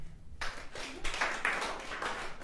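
Audience clapping at a college comedy show, a burst of many hands breaking out together and carrying on steadily in a small room.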